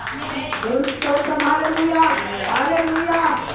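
Rhythmic hand clapping from a congregation at a Sunday church service keeps a steady beat under voices that sing or speak throughout.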